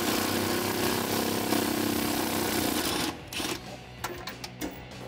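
A 12mm socket on an extension, likely driven by a power tool, spins out an airbox bolt on a Toyota Tacoma, a steady buzzing whir lasting about three seconds, then stopping and giving way to a few short clicks and knocks.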